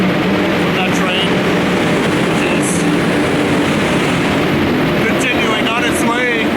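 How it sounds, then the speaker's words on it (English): A train at the railway station in Lund, Sweden, roars loudly and close by with a steady, heavy engine drone that fills the whole stretch without letting up. "very loud engines, as you can hear from that train"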